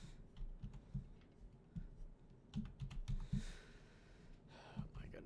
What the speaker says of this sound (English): This is what happens when you have a sticky keyboard.